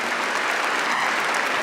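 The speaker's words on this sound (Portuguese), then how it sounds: "Vamos aplaudir a palavra de Deus" A church congregation applauding during Mass, a dense, steady burst of clapping from many people filling the space.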